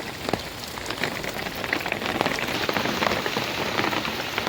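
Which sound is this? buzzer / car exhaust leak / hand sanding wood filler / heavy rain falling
heavy rain falling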